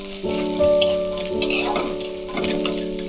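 Bori and onion frying in a pan, a steady close sizzle with a few soft stirring scrapes and bursts of crackle, no talk.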